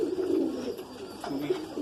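Pigeons cooing inside a loft, several low throaty coos rising and falling close by, one after another over a soft background murmur.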